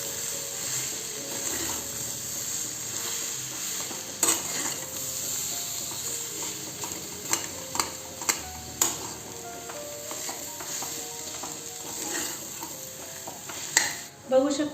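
Potato bhaji with coriander is stirred and mixed in a pan, giving a steady frying hiss broken by repeated scraping knocks of the spoon against the pan, close and moderately loud.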